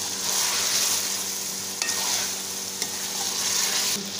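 Aloo chicken with green chillies is stirred in a hot pan, producing a loud, continuous frying sizzle close up, with a couple of soft spatula scrapes and no voices.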